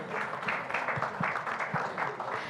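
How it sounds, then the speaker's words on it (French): Audience applause at a French panel event on green hydrogen, a steady wash of clapping from a seated crowd at moderate level, with faint voices underneath. "Sous vos applaudissements"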